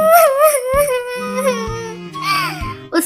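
In an animated Hindi story, a voice actor imitates a small sparrow crying, with high, wavering sobbing wails and short breaths. The cries are close and clear, rising and falling in pitch over a faint low background.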